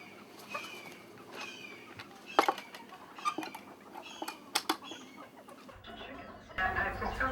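Chickens and roosters in Key West give faint, scattered clucks and short sharp calls amid rustling, spaced irregularly at low volume, with no talk.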